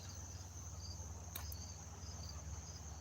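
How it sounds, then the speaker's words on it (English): Crickets chirp steadily and alone at night, a constant high trill with a faint hum underneath. "There are crickets, all right?"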